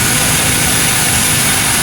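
A Honda 110cc motorcycle engine with a damaged timing chain roller runs loud and close at a steady idle, a continuous rumbling drone.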